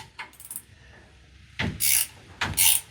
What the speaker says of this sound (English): We got our 1/2 inch speed wrench here. And we're going to break these nuts loose